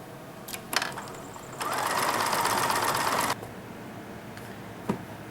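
A sewing machine stitches appliqué pieces for a baby quilt in one steady mechanical run of under two seconds, close by. A few clicks and taps come before and after it.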